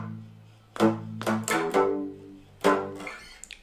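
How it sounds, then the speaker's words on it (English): Palm-muted power chords on guitar are strummed in several short, percussive, choppy hits with uneven spacing, each cut off quickly, played close and alone. "I use my palm of the palm of my hand, and I put it on the strings to make a muted sound"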